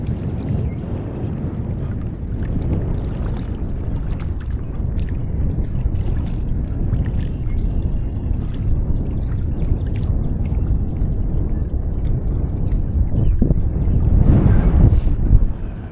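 Wind blowing outdoors beside a lake near a quarry, a steady low rumble of gusts buffeting the microphone, swelling louder toward the end, with no voices.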